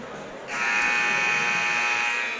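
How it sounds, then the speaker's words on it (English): A loud, sustained electronic buzzer sounds at a varsity high school basketball game to end a team huddle. It starts abruptly and holds steady for about two seconds. "Buzzer tells CBC to get out of their huddle."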